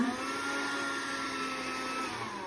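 A steady motorized whir from a small handheld window-cleaning device wiping glass, running continuously and close by with a constant high-pitched hum.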